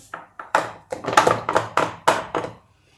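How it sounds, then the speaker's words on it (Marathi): A container of dal-rice dhokla batter is tapped against a surface, giving about ten quick, close, hollow knocks in an uneven rhythm before the sound stops. "याला थोडं आपण टॅप करूया"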